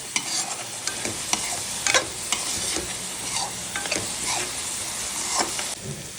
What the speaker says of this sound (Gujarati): હવે તેમાં 1 ઝીણી ચોપ કરેલી ડુંગળીને સોનેરી રંગ થાય ત્યાં સુધી સાંતળીને થોડી પકાવવા દઈશું.